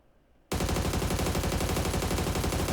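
Gunfire in the video game PUBG bursts in after a brief quiet moment, a loud sustained rapid volley of shots with no voice over it.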